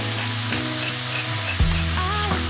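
Egg roll filling frying and being mixed in a pan, a steady sizzle under scraping stirs with a sharp clatter of the utensil near the middle, close and fairly loud.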